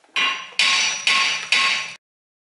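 Four sharp metallic hammer strikes ring out against the front brake rotor of a Mercedes-Benz W203 C-Class, spaced about half a second apart, each with a bright ringing decay, close and alone.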